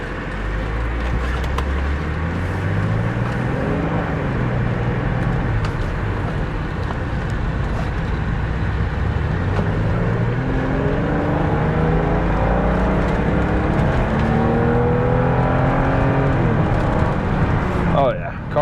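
A BMW E36 M3 convertible drives steadily through a parking lot, its engine note rising and falling through several gear pulls with continuous road and wind noise from inside the car.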